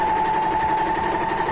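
A Janome 792PG Anniversary Edition serger stitches fabric at high speed, giving a steady, dense mechanical rattle with a constant whine that runs unbroken throughout, close and loud with no speech.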